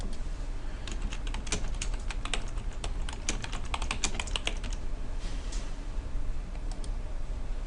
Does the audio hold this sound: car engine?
no